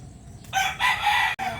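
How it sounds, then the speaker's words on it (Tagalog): Red chickens and a rooster at a farm, the rooster crowing loudly and close in a single long call that breaks off with a brief pause before another burst. "nandito na tayo sa mga kulay pula natin na manok"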